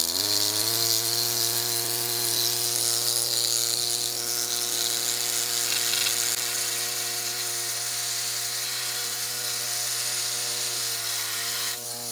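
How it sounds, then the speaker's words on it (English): Power tool fitted with a chisel bit running continuously at high speed, a loud, steady whining buzz held for the whole stretch and close by, without a break or any voices. "I'm going to use this chisel bit, speed things up a bit"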